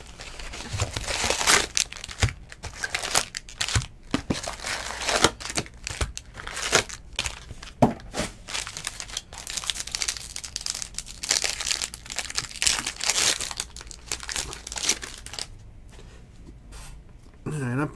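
Foil wrappers on 2019 Topps Series 2 baseball card packs being torn open and crinkled, busy irregular crackling and ripping bursts close by, with a person talking in between.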